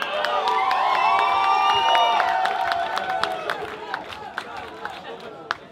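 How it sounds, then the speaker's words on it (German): At an Emergenza live band contest, a concert crowd cheers and whistles loudly with voices shouting, then the cheering fades into scattered, sharp claps and applause. "bitte schön, riesen Applaus!"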